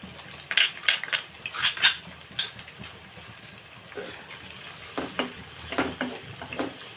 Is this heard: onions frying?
yes